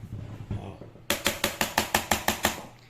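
A coin on a plastic motorcycle top box: a dull knock, then a quick run of about ten crisp clicking taps in a steady rhythm, close and distinct.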